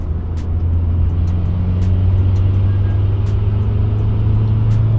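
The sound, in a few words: Mitsubishi Evo IX engine running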